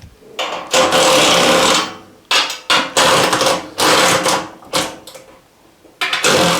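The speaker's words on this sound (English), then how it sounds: "It's a good time to break out my electric ratchet." An electric ratchet from Bohr drives bolts while a Brinly 54 lawn sweeper is assembled, giving loud close bursts of rapid buzzing ratchet whir, each lasting about a second, separated by short pauses.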